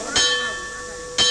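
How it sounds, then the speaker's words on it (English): A church bell rung to summon villagers strikes twice, about a second apart, each clang bright and loud with a ringing metallic hum sustaining between strikes. "our modelling session was interrupted by the sound of the church bell"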